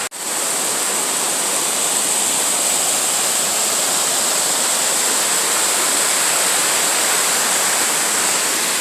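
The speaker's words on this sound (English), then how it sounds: "cascades." Water cascades tumble at old 1800s water power plant ruins in Independence, Virginia, producing a loud, steady, close broadband rush with no pauses.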